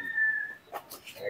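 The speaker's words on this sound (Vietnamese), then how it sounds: "Tiếng chim hót là vui thật" A bird sings a clear, sustained whistling note in a garden of ornamental potted plants, followed by a few softer chirps and faint background sounds.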